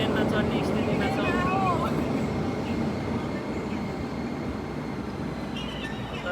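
A train pulls into a station platform in Tokyo, a steady low rumble of rolling carriages with a brief squeal of brakes, heard close with people talking nearby.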